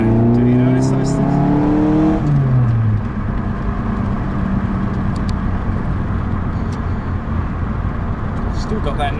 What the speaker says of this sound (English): Still got that nice brap when it takes off.